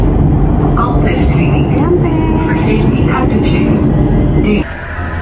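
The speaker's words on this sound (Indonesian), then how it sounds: "kita udah di metro guys. Metro station Alexander." Metro train at Alexanderplatz station in Berlin, a loud steady rumble of rail travel with rattling and squealing, and people talking over it before the noise drops off near the end.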